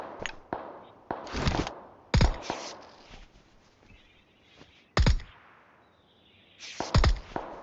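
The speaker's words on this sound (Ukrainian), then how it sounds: "сзади десь стріляють" Several sharp gunshots crack out in irregular bursts in PUBG Mobile, some single and some doubled, with quieter shuffling and movement sounds between them.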